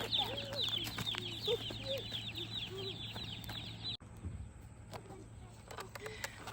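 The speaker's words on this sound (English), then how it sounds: "we just got back from the post office with all these chicks" A box of sixty broiler chicks just collected from the post office cheeps constantly, a busy chorus of high peeps at moderate distance over a low hum, with a brief bump midway.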